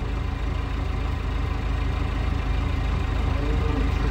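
A tractor engine idles steadily from inside the cab, a loud, constant low rumble with an even chug.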